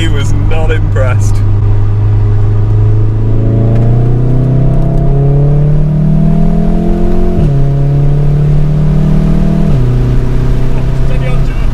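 A modified VW Golf R 7.5 accelerates hard under launch control, its engine note climbing steadily through the gears with brief dips at each shift, loud and close, while people talk over it.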